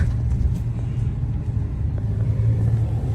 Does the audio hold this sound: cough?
no